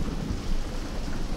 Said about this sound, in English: It's rain on the windows.